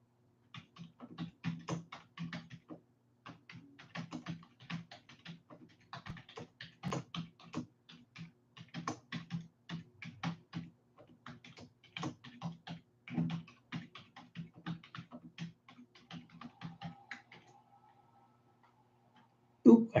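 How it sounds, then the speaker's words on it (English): Typing on a computer keyboard during a livestream, steady clusters of quiet, close keystrokes in irregular bursts that carry on for most of the stretch before stopping, with no talking. "I can't talk and type at the same time."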